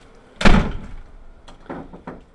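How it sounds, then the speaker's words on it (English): An indoor door swings shut with one solid thud in a house addition near a dark stairwell, followed by a few softer knocks and rattles before quiet. "I'm about to close the door."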